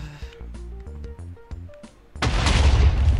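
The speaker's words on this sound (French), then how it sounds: "Ça devrait exploser." A loud explosion in a video game mini-game, a broadband roaring blast that bursts in after a run of plinking musical notes and holds steady to the end.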